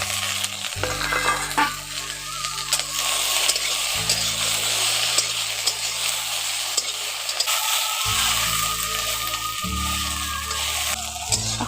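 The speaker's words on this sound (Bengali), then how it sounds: "ওই তেলের মধ্যে ঢ্যাঁড়সগুলো দিয়ে দিচ্ছি।" Okra hits hot oil in a wok and sizzles loudly, a steady hiss that runs throughout, broken by the scrape and clatter of stirring at regular intervals. Nobody speaks.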